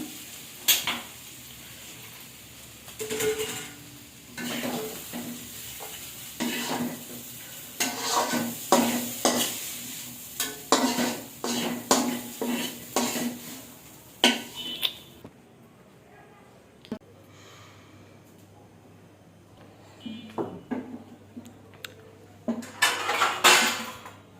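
Fried potatoes get stirred in a pan, with a spoon scraping and clinking against the metal in irregular bursts over a soft sizzle, a pause part way through, and some talk nearby.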